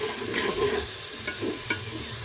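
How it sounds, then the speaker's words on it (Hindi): Lobia, black-eyed beans, are stir-fried in ghee, a soft continuous sizzle with a few brief scraping stirs, close and low in level, no talking. "एक से 2 मिनट तक ना इसकी बुनाई करेंगे।"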